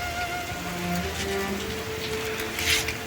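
Rain falls steadily in a continuous, close hiss of drops with no talking, while faint tonal sounds drift through the background.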